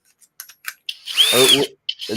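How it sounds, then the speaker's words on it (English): A power drill bores a pilot hole into wood in one loud, close whine lasting about a second, preceded by short clicks and taps, with a brief sound of handling after it. "Are you are you drilling a pilot hole?"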